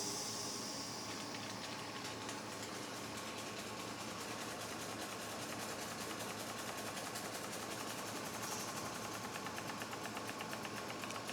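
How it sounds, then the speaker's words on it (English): A small PM Research model steam engine runs steadily in a steam plant setup, giving off a fast, even mechanical ticking like a sewing machine, continuous and fairly faint with a constant hiss beneath. "Let's watch the steam engine crank away."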